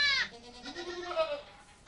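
Goats bleat in short wavering calls, one strong nearby cry followed by a longer, softer bleat, with some background noise behind them.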